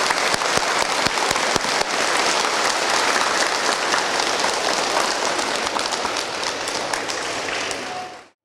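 A crowd applauds the armed forces at the award ceremony of the Promin Mriyi Cup youth football tournament in Horishni Plavni: dense, loud, steady clapping that runs unbroken for several seconds before cutting off abruptly.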